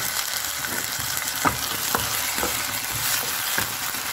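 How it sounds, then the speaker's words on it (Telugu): Ginger garlic paste and tomato puree fry in a pan for a chicken curry, giving a dense, constant sizzle close up, with regular soft scrapes of a spoon stirring through it and no voices. "ఒక టూ మినిట్స్ ఫ్రై చేసుకుందాం అల్లం వెల్లుల్లి పేస్ట్ కూడా ఫ్రై అయిపోయింది కదా"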